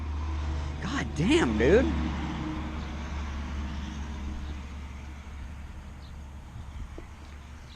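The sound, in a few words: truck passing by on the road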